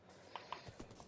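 Horse hooves clip-clopping in the Minecraft video game, a few short, faint taps over a steady low background hum.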